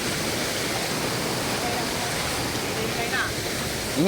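Waterfall roaring as a steady, loud broadband rush of falling water, constant throughout, with faint chirps or squeaks briefly audible near the end.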